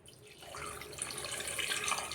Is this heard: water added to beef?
yes